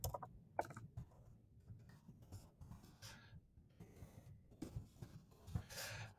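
Fingers typing on a computer keyboard, a quiet, irregular run of soft key clicks with brief pauses and bursts, close and alone.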